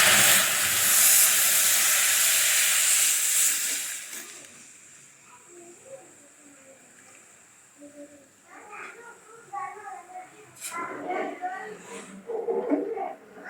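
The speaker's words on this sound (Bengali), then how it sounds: "এখন আমরা এটার মধ্যে দুধটা ঢেলে দিব এই যে দুধ ঢেলে দিলাম" Milk poured into caramelised sugar and sago in a hot pan, a loud hissing burst of steam that fades after a few seconds, followed by someone talking over a quieter simmer.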